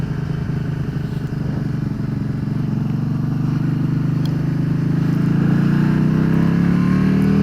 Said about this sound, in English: Just roll on the throttle, first gear